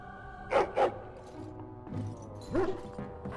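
A dog in Dragon Age: Origins barks twice in quick succession, then gives a few softer woofs and one more bark, close and fairly clear against a quiet background.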